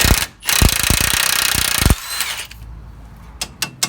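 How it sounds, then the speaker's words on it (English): A ratchet wrench clicks rapidly in bursts, metallic and close, followed by a few scattered clanks as a tie rod end nut on a Ford Ranger is worked loose. "you're going to want to take the nut off the tie rod end"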